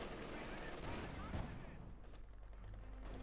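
Automatic gunfire in Company of Heroes 2, a German machine gun firing on Grenadiers amid a dense, continuous crackle of battle noise, with a sharp close shot near the middle and some faint talk underneath.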